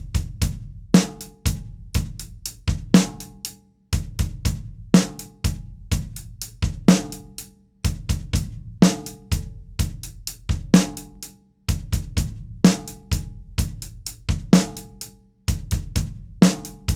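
A drum kit plays a slow, steady ostinato with bass drum, repeating in even groups of rhythmic hits across several bars, clear and close with no talking.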